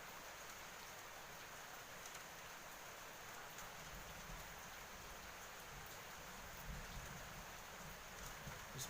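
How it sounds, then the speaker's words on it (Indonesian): Gentle rain falling at night, a soft, steady hiss of drops with faint patter, distant and even throughout. "menikmati suasana malam ditemani suara gemericik hujan"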